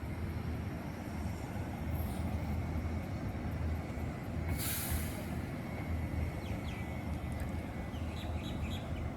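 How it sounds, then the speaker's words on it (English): An eight-carriage passenger train running, a steady low rumble and rattle of wheels on track throughout, with faint bird chirps and a brief brighter hiss partway through, no talk. "Now this is an 8 carriage train."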